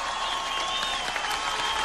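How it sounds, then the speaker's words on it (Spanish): Steady applause from a live concert audience greets a cumbia band taking the stage, a dense, even patter of many hands clapping without pause, fairly distant and alone. "Fuerte el aplauso"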